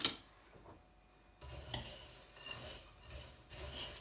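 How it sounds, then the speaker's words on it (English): A granola mix with raisins and cranberries gets stirred in a bowl, giving soft scraping and rubbing strokes in a few short bursts after a quiet start, fairly faint and close. "stir everything up together"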